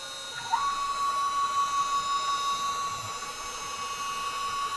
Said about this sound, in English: Now this is drilling the 4mm hole for the thread.